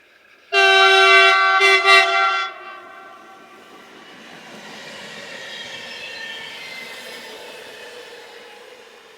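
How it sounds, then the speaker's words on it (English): Locomotives nearing a neutral section west of Stabio sound a loud, close horn blast of about two seconds with a short break in the middle, followed by a quieter rumble of rolling rail traffic. "Here the locos approach the neutral section west of Stabio."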